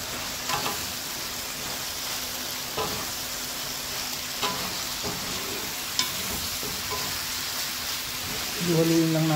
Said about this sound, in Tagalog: Haluin lang natin mga para lang yung lasa sumama sa broccoli.